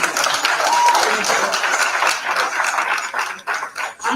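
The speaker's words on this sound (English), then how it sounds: "Please give them another round of applause" Clapping from an audience after a performance at a community event, fairly loud at first, then thinning and fluctuating toward the end, with some murmured voices underneath.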